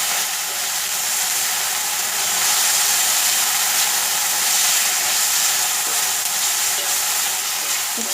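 Cubed aloe vera sizzles loudly in hot oil in a frying pan while being stirred, a dense continuous crackling hiss that stays close and steady throughout.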